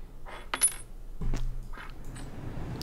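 A silver coin drops with a bright metallic clink in the border-inspection game Papers, Please, followed by a few more small clinks and thuds against quiet background game ambience, with no speech.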